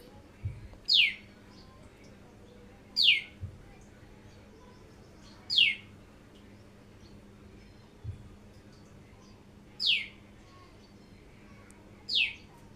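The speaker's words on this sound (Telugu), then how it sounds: "పిట్ట సౌండ్ భలే చేస్తుంది" Small bird near a home kitchen chirping in short, sharp calls, five spaced chirps over about twelve seconds against a quiet background, with soft low thumps between them.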